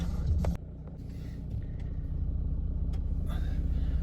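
A car drives along a road in Ukraine, a steady low engine and road rumble heard from inside the cabin, with a brief knock at the start.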